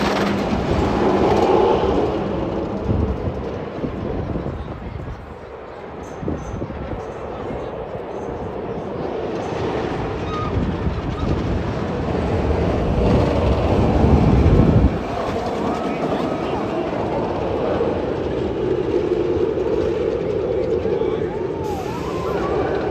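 Jersey Devil roller coaster train running at Six Flags Great Adventure, a sustained rumbling roar of the train on the track with a louder rush midway, mixed with crowd noise and talking.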